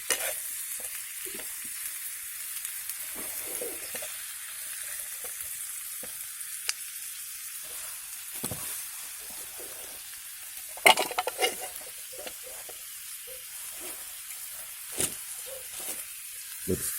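Food sizzles and fries in a pan on a camp stove at a stealth camping shelter, a steady hiss with occasional scraping stirs and clinks of the utensil against the pan, no talking.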